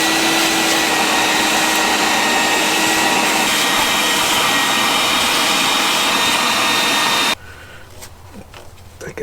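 A vacuum cleaner runs loud and close while cleaning during a 2003 Subaru WRX fuel pump install, a steady whining roar that cuts off abruptly near the end, leaving quiet handling noise.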